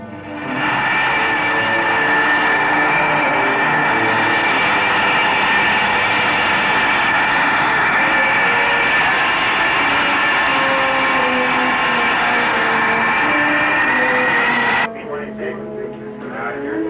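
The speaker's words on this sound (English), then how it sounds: "the drone target plane will soon leave the runway" A drone target plane roars steadily at Holloman Air Force Base in 1960 before leaving the runway. The broad, sustained engine drone stays loud and even, then drops off near the end, with a voice talking over it.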